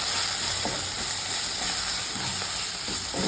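Chicken fry masala with Kashmiri chilli and pepper powder sizzles loudly in a hot pan, a constant bright hiss, while a spoon stirs it through in soft scraping strokes close up. No one speaks.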